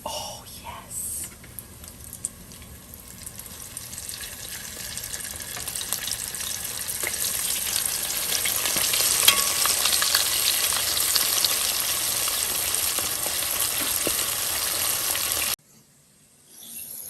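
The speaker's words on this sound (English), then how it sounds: "Ready for that sizzle?" Fried chicken legs sizzling in hot oil, a steady loud crackling hiss that builds over several seconds and then cuts off abruptly near the end.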